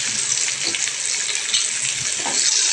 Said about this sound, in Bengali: হালকা ফ্রাই মানে ভাজা ভাজা মতন হয়ে এসেছে